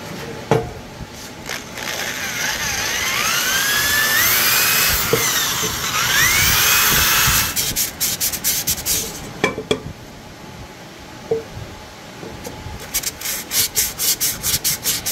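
Steady abrasive sanding on wood furniture, a hall tree, for several seconds, then shorter, choppier strokes with brief pauses, fairly close and moderately loud.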